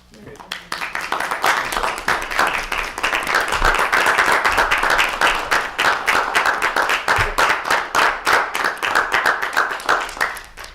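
Audience at a school committee meeting in a middle school giving sustained applause, loud rapid clapping from many hands that swells, holds for several seconds, then thins out, with some talk underneath.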